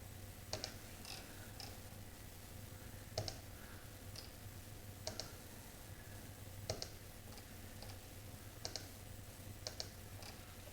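Sharp computer mouse clicks come singly and in quick pairs at irregular intervals, about every one to two seconds, while someone draws road curves in drafting software. They are faint and close, over a steady low hiss, with no talking.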